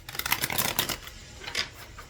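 Quick papery riffling bursts of tarot cards being shuffled, several short flurries in a row, close and fairly soft.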